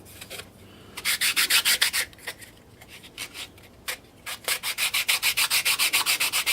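Sandpaper rubs along a timber edge to deburr it: quick rhythmic strokes in two bursts with a short pause between, close and clear, with no talking.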